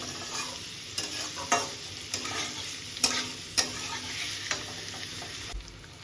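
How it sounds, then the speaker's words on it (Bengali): Onion, garlic and chili fry in a pan for a Lote fish (Bombay duck) dish with a continuous, even sizzle, while periodic sharp knocks and scrapes of a spatula mark the stirring. "পেঁয়াজ আর রসুন লঙ্কাটা আমার মোটামুটি ভাজা হয়ে গেছে,"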